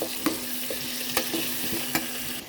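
Eggplant and drumstick pieces sauté in a pan for a village-style tamarind curry, a low sizzle under repeated scraping stirs and sharp spatula taps, close and rhythmic.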